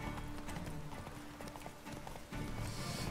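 A horse in The Witcher 3 gallops with steady, rapid clip-clopping hooves and lets out a whinny, heard close and loud throughout over the game's ambient sound.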